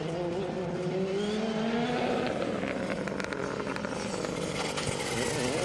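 A Rally 2 Citroen rally car drives sideways into a holding area at the Lee Holland Memorial Rally, its engine note rising and falling in a steady, fairly close drone with no talk over it.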